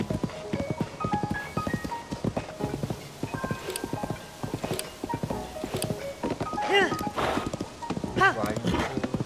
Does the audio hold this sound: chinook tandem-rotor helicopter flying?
no